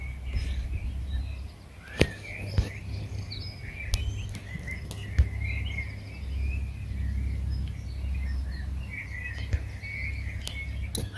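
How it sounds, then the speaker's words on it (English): Birds chirp and sing outdoors at Leon Sinks Geological Area in scattered calls over a low steady hum, with a few sharp clicks breaking through. "Listening to the birds"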